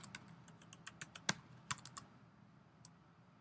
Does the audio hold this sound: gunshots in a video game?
no